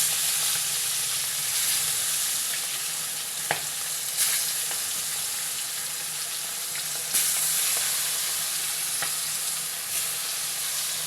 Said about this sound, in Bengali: এখন এইভাবে সবগুলোই ভেজে নেব।